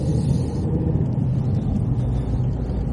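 A car drives a foggy country road between Densole and Newington, its engine and tyres giving a steady, close, low rumble that holds without a break.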